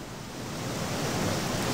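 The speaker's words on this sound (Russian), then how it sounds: "Водопад." A waterfall in the game Gothic II gives a dense, steady rushing roar that swells slightly over the short stretch, with no talk.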